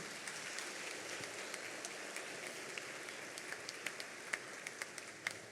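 A church congregation at a Mass for the Solemnity of Saint Joseph claps softly. The faint, diffuse applause carries across a large room, with a few sharper claps standing out near the end.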